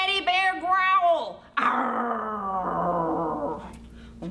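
Children playfully imitate a big teddy bear growl, a rough, drawn-out vocal rumble in the middle of the clip that follows a burst of sung or chanted voices.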